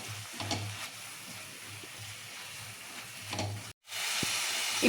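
Red pasta sauce sizzles steadily in a pan while two spoons of Kashmiri chilli powder are stirred in, with soft scraping strokes over a constant close hiss that cuts out briefly and then returns.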